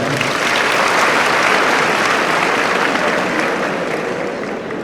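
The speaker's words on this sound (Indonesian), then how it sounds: "Tepuk tangan semuanya." A large crowd at a transport school graduation ceremony gives loud, sustained applause that fills the whole stretch evenly and eases only slightly at the end.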